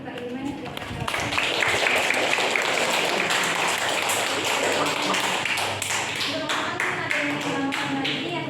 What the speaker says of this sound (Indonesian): beri tepuk tangan untuk Kak Iman